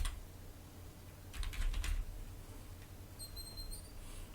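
Quick bursts of keystrokes on a computer keyboard while entering a search term on an Ubuntu computer, a short flurry of close taps and then a few lighter clicks against a quiet room hum.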